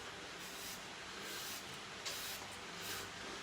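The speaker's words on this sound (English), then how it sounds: "I'm going to spray the leaf a bit more so she can have some more spray" A spray bottle mists a leaf in several soft, short hissing puffs at an even pace, faint against a quiet room with no talk.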